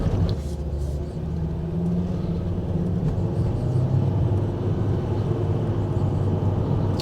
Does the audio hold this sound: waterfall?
no